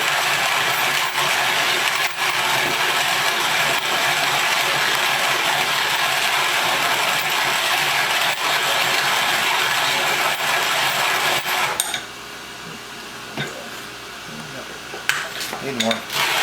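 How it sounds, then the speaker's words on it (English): Coffee beans being ground by hand in a Zassenhaus manual grinder, a steady loud gritty ratcheting crunch that runs for about twelve seconds and then stops, followed by a few faint clicks and handling noises. "You notice that when I'm grinding this, I'm holding it with my finger to keep the adjustment from slipping."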